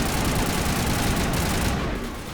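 Dense, sustained gunfire in the Mass Effect video game: a continuous loud barrage of overlapping shots with no break, easing slightly at the very end.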